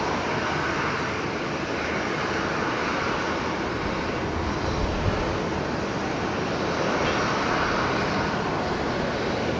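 The last Boeing 717 built makes its final landing at Brisbane Airport, with a loud, steady, unbroken jet engine roar filling the whole stretch.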